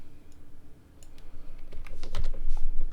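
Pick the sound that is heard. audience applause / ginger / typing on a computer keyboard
typing on a computer keyboard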